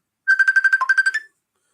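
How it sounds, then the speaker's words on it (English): A mobile phone ringtone plays alone, a quick run of about a dozen bright, evenly spaced electronic beeps lasting roughly a second, loud and close. "My phone happened to be ringing right now"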